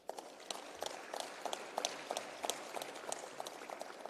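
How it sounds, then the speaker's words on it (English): Applause from a summit audience at an ICT event, scattered claps spread steadily through the stretch at moderate distance, fairly faint and without talk over it. "Thank you for giving an applause to that."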